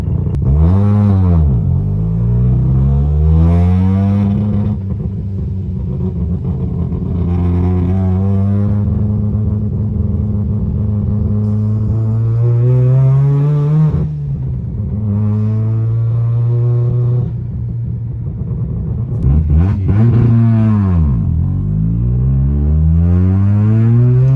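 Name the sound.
rotary-engined car driving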